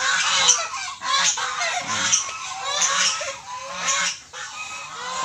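Domestic ducks calling near a bamboo nest on a Philippine farm, a series of loud nasal honking quacks repeating in short bursts, close by and without talk.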